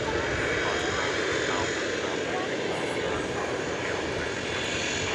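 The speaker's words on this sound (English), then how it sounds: "An Embraer 120ER Brasilia, which is operating for the Ameriflight" An Embraer 120ER Brasilia turboprop flying cargo for Ameriflight at DFW airport at night gives a constant broad engine and propeller roar, steady and fairly loud from start to finish.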